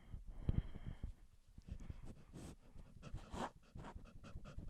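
A girl imitates a dog with breathy panting, snorts and small grunting noises, a steady run of quick close breaths for several seconds.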